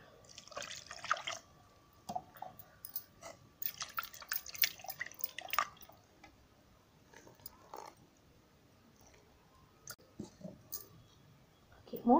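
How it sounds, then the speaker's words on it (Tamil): Chilled water splashing and dripping as a blender lid is rinsed in a home kitchen making mango juice; faint intermittent drips and small clatters at close range, with quiet stretches in between. "இதோ மூடியை கழுவியாச்சு ஜில் வாட்டரில்."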